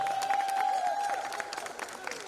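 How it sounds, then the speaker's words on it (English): Audience applause fills a high school ceremony hall, with steady clapping and a sustained tone running underneath throughout the short stretch. "Can we give another round of applause, please?"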